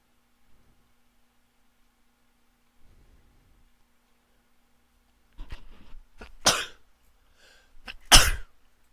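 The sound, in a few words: stifled sneeze and coughing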